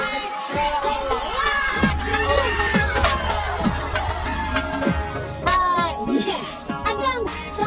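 Arena crowd erupting in loud, sustained cheering and shouting at an NBA dunk, with excited children's voices and whoops rising over a dense roar of the crowd.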